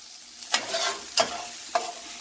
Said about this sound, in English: So I'm going to transfer the peppers